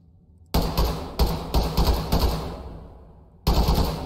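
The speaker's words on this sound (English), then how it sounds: "we'll take out the AK-74 here." AK-74 firing on full auto in the video game Ready Or Not: several sharp rapid bursts of loud gunfire with brief silent gaps between them, the last burst starting after a longer pause.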